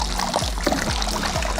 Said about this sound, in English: So I'm just giving it all a good, very good stir.